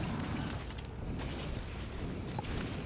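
Factorio cannon fire from the Space Age expansion on Nauvis: a dense, steady rumble of distant explosions with no distinct single blasts, fairly faint throughout.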